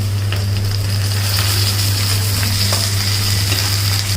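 Onions browned with green chillies fry in a pan for a Telangana-style chicken curry, giving off a steady, close and loud sizzle with a constant crackle and a low hum underneath.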